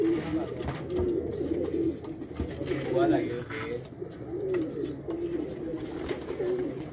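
A pair of Rampuri pigeons cooing close by, repeated soft throaty coos in a steady rhythm, with someone talking over them and a continuous low background hum.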